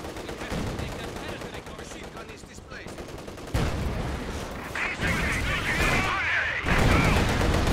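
Machine gun bursts and scattered gunfire from the World War II strategy game Company of Heroes 2, a dense continuous barrage of rattling shots and battle noise, with a voice talking over the combat.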